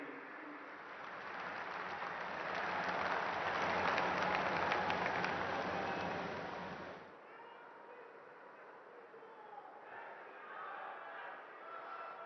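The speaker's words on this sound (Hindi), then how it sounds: "आपकी जोरदार तालियों के बीच माननीय मुख्यमंत्री जी से निवेदन, अपने संबोधन के लिए पधारे श्री नायब सिंह सैन" Crowd applause swells at a political rally in Jind, Haryana, a dense clapping roar that builds, holds for several seconds and then drops abruptly to a thinner murmur of crowd noise.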